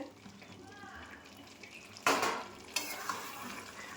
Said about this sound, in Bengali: ভালো করে নেড়ে চেড়ে একেবারে কষিয়ে নেব।